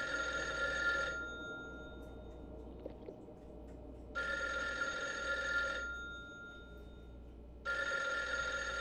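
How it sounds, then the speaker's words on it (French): An old-style telephone bell rings in a horror video game, sounding three long bursts separated by quiet gaps, with a low hum underneath. "Ah oui, putain, c'est le téléphone"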